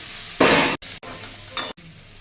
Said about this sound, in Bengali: মশলা কষানো হয়ে গেছে, আলুগুলো দিয়ে দিলাম,